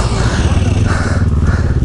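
A Yamaha 250 motorcycle climbs a hill, its engine droning steadily and loudly close by with a rising and falling pitch, while voices talk over it.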